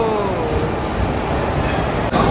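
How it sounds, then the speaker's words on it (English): The Madgaon Nagpur Express pulls into a station platform with a steady, loud rumble of rolling wagons and faint wheel noise. "Madgaon Nagpur Express has arrived on platform number 1"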